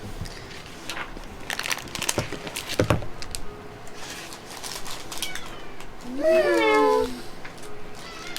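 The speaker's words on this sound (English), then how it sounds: "there is a cat in the background" A cat meows once in the background, a drawn-out rising and falling call near the end, heard behind people talking and some tapping and rustling noises during a tabletop game session.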